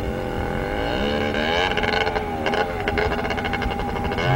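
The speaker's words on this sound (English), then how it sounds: "There goes in the motorcycle." A motorcycle passes near the Courtright Reservoir gorge, its engine droning steadily at first, then revving and rising in pitch with stuttering bursts as it goes by, fairly loud and close.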